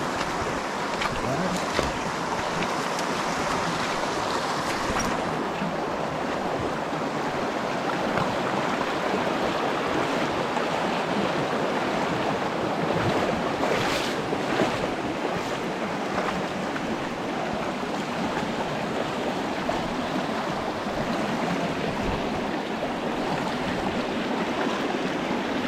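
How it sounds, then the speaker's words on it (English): High water rushes over a low crossing after heavy rain, a loud, continuous broadband roar of churning flow with wind buffeting the microphone throughout. "You see the water came all the way up rushing over this."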